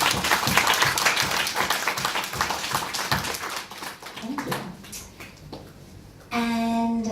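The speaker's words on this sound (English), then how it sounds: "Let's give Cardin a very big round of applause." An audience applauds at an evening spiritual satsang gathering, a dense burst of clapping that thins out over several seconds, followed by a steady sustained tone.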